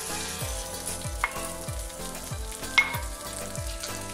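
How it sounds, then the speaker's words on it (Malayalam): Chicken pieces fry steadily in a pan for restaurant-style malai tikka made without an oven, giving a continuous close sizzle with regular scraping stirs and a couple of sharp clinks. "ഇപ്പോൾ ചിക്കന്റെ എല്ലാ വശവും നല്ലതുപോലെ ഫ്രൈ ആയി വന്നിട്ടുണ്ട്"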